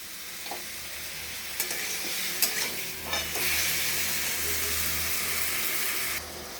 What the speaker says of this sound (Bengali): তো এটাতে কটা আমি কাজু দিলাম এটার মধ্যে, এটার সাথে ভাজা হবে।